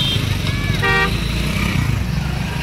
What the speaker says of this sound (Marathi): हे ट्रॅफिक जाम झालं एकदम.